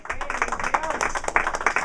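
A church congregation claps during a service, a brief burst of rhythmic clapping mixed with voices and shouting.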